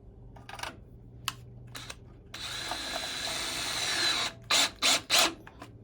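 Small screws are driven in to fix a Mamod SE1 toy steam engine down onto a piece of wood, with short ratcheting clicks, then a sustained whirring tool run and a few quick closing bursts, close and fairly quiet.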